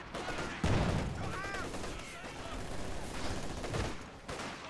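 Battle gunfire in Company of Heroes 2, a 1v1 match with Soviet forces including a Maxim machine gun, comes as a dense, steady crackle of shots and bursts that runs through the whole clip at a fairly loud level.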